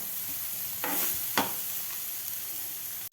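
Chopped vegetables frying in a pan for egg chaat, a continuous close sizzle with a couple of brief stirring scrapes and no talking.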